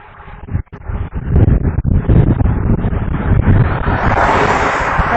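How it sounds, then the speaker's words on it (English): Strong wind buffets an outdoor microphone during a bike ride around Orlando, a loud, steady roar with a few brief dips early on before settling into continuous rushing noise. "It's a little bit windy here today in the Orlando area."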